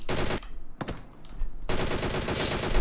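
Automatic gunfire in PUBG Mobile, loud rapid bursts of shots with a short pause between volleys and a sustained burst at the end.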